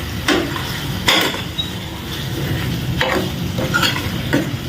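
A potato and tomato curry gets stirred in a pan, several distinct scraping strokes of a spoon over a continuous sizzle, close and moderately loud.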